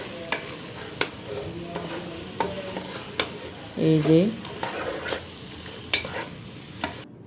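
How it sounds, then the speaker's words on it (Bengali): Beef pieces stirred with masala in a pot for home-style beef biryani, giving repeated scraping clacks and a soft background sizzle, with a short spoken phrase midway. "মশলার সাথে এখন গরুর মাংসগুলোকে মিশিয়ে নিব"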